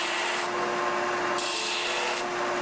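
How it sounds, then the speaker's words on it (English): A belt disc sander cleans up and chamfers the ends of wooden game pieces, making a loud, steady, close grinding rasp that changes pitch as the wood is pressed on and eased off. "I decided to use this belt disc sander to clean up all the ends and chamfer all the"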